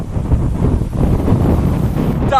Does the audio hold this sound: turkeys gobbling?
no